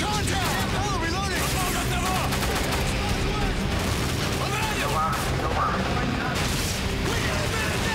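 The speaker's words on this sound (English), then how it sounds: "I'm taking a lot of fire!" Constant gunfire and explosions fill a Call of Duty: Modern Warfare 3 battle, loud and dense throughout, with shouted voices mixed into the din.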